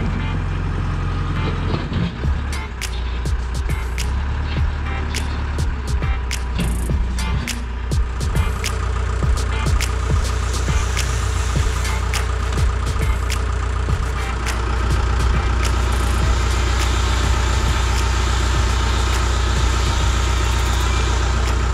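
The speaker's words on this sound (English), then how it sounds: "So we're using the tractor." A heavy engine runs steadily at close range, a deep continuous rumble with clanks and knocks throughout, growing slightly louder toward the end.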